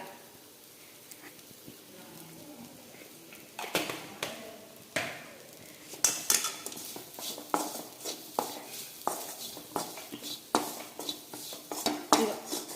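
Spiced chicken seasoned with salt and pepper powder, stirred in a metal pan with a spoon in a home kitchen: a quiet lull, then repeated sharp scrapes and clanks of utensil on pan in an irregular rhythm, close and fairly loud.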